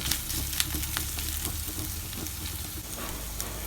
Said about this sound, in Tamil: அதை எல்லாத்தையும் நம்ம இடிக்கல்ல போட்டு நல்லா இடித்து அது வாசம் போகிற வரைக்கும் கொஞ்சம் நேரம் எண்ணெயில் வதக்கி எடுக்கணும்.